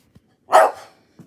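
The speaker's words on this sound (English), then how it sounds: "Come on, little doggy. You're so loud." A small dog gives one loud, close bark with a short yip tail, set between near silence and faint soft noises in a quiet indoor room.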